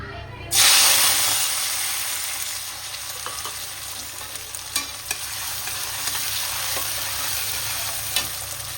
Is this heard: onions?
yes